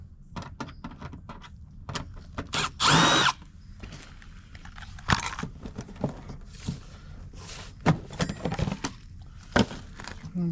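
Power drill backing Phillips head screws out of a Fujitsu mini-split unit, giving short whirring bursts between clicks, clinks and handling noises of screws and parts, spread over several seconds.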